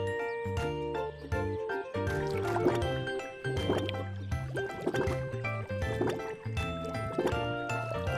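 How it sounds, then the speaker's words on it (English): Bubbly gurgling and dripping liquid sounds of a cartoon water tanker filling a water tank play over bouncy, jingling cartoon music that runs continuously. "Tyson, could you please fill the water tank with water for us?"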